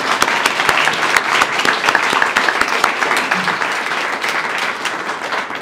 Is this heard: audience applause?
yes